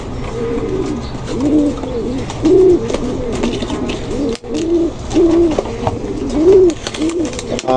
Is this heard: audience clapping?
no